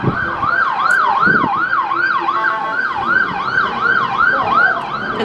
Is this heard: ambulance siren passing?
yes